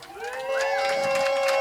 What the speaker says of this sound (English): So let's give my mom a round of applause